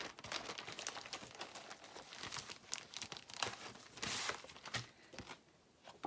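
Sheets of Sparkle and Shine designer paper from a pack being handled and leafed through, with close, repeated crinkling and rustling that comes in uneven bursts.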